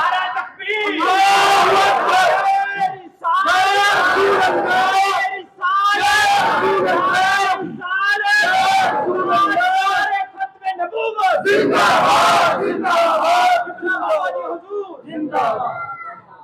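A large gathered crowd at an Islamic religious sermon chants loudly in unison in answer to a takbir call, with repeated bursts of collective shouting separated by short pauses.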